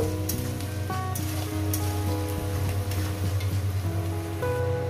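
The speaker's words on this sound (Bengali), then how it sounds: "পেঁয়াজটাকে দিয়ে আমি সুন্দর করে লাল লাল করে ভেজে নেব" Onions frying in a pan while cooking an egg curry, giving a steady close sizzle that runs throughout with faint crackles and no voices.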